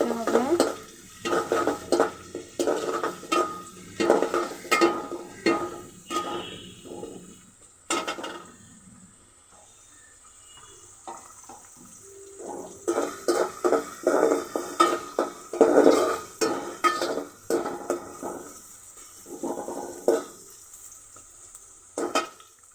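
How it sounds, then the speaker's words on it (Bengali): A spoon stirs green chilies in a hot pan for a broiler chicken curry with raw banana and potato, with soft sizzling under repeated scraping and clinking against the pan in bursts, broken by a quieter pause midway and no talk. "কাঁচামরিচ, নাড়া দিতে হবে।"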